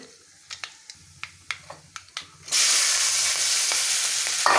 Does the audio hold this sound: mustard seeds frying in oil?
yes